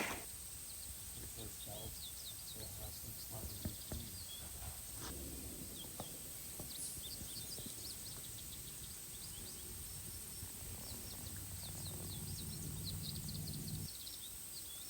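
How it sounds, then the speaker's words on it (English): Faint outdoor bird chirps scattered through steady background hiss, with a few soft rustles and muffled sounds in between. "Even the birds think it's springtime. Can you hear them?"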